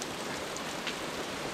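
Rain falls steadily at night, a dense, even hiss of drops hitting surfaces with a few brighter spatters, close and constant with no voices.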